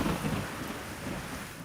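Thunderstorm with a low rumbling roll of thunder and steady rain-like wash, with wind, continuous and fairly faint throughout.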